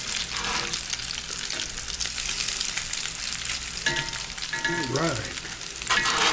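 Salmon fish cakes fry in hot oil with a loud, close, continuous sizzle and crackle, with a brief word spoken over the frying partway through.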